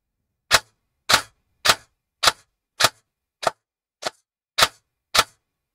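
Airsoft gun fitted with a budget brushless motor fires single shots, each a sharp, loud crack, spaced evenly about half a second apart in a steady rhythm, with silence between.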